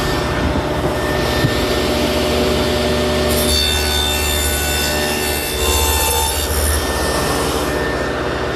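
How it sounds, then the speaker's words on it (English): A table saw fitted with a 1/4 inch dado head cutter runs groove cuts along the edges of plywood for a walnut table, a loud continuous grinding whine with a steady motor hum, the pitch shifting slightly as the blade bites into the wood. "I've set up the saw with a 1/4 inch dado head cutter"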